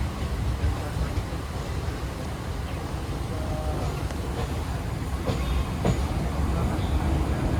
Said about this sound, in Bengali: ঠিক কুড়ি মিনিট লেটে ইহা এখানে দক্ষিণেশ্বর ছেড়ে বেড়াচ্ছে আমাদের ট্রেন কাঞ্চনজঙ্ঘা এক্সপ্রেস